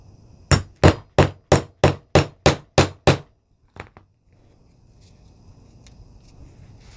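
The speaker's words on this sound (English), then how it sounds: "I hammer it down, give it like 4 good whacks." Hammer striking a metal hole punch through fabric for embroidered applique earrings: nine sharp, evenly spaced whacks in quick succession, loud and close, then a couple of lighter knocks and quiet handling.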